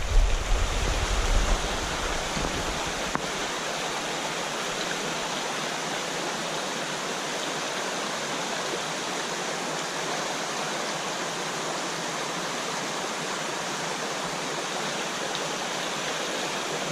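A small Catskill mountain stream flows with a steady, loud rushing and burbling close by, continuous throughout with no voices.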